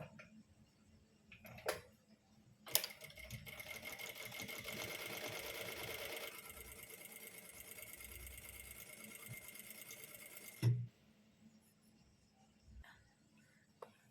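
A sewing machine stitches through layered main fabric, lining and canvas in one steady, close run of about eight seconds, with quiet handling before it and a brief clunk as it stops.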